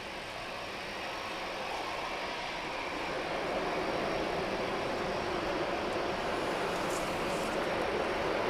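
A Rolls-Royce powered airliner landing, a steady broad engine roar that swells slightly louder toward the end, distant and continuous with no voices.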